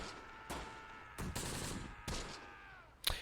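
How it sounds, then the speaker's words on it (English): Gunfire in the World War II tactics game Close Combat: The Bloody First, with about four separate sharp bursts landing at irregular intervals over a steady ambient bed of background noise. "we are taking fire from over on the left side as well"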